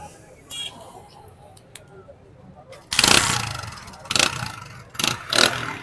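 Used motorcycle at a Karachi bike market starting up, then revving in a few loud bursts close by after a quieter stretch, with faint background voices.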